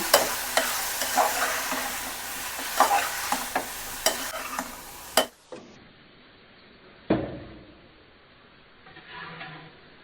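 Frying radish is stirred in a pan with coriander and chili powder: rhythmic scraping strokes over a sizzle, then the sound drops to a quieter simmer with one sharp knock.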